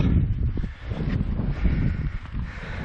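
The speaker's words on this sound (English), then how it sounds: "Oh, that wind is picking up." Gusty wind buffeting the microphone outdoors on a day hike in the Ontario backcountry, a loud rumbling roar that swells and dips over a few seconds.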